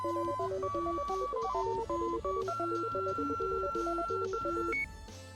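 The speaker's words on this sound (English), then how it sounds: "Good ringtone." A phone ringtone from the video game Flower, Sun, and Rain plays a bright, beeping electronic melody with steady stepped notes that stops abruptly near the end, no voices over it.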